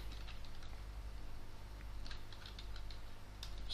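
Light, quick keystrokes on a computer keyboard while an SQL update statement is typed into Oracle SQL Developer, a soft, fairly faint run of uneven clicks with no talking.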